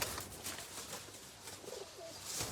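Teddy pigeons offered for sale, giving soft, low cooing under steady, noisy background hiss, with no talking.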